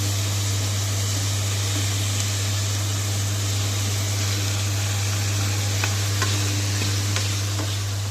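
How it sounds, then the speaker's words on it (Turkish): Steady, dense sizzling of cubed chicken frying in hot oil over medium heat, continuous and close, with a low constant hum underneath and occasional faint pops. "Şu şekilde küp küp doğradığımız tavuğu yağ ısınınca atacağız."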